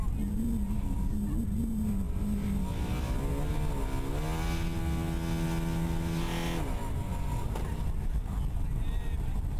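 A Formula SAE student race car at an acceleration event idles and revs in gear before launch, a steady engine tone rising and dipping under constant crowd and track noise, with commentary spoken over it.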